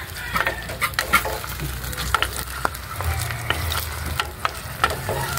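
A spatula scrapes and clacks at irregular intervals while food fries in a pan over a low, steady sizzle, with no talking.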